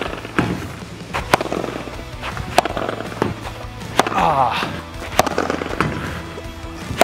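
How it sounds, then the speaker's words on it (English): Padel ball volleys struck with a Metal Bone padel racket on a court, a series of sharp, loud hits at an irregular rally rhythm with footsteps and light background voices. "Let's try some volleys with the metal bone now"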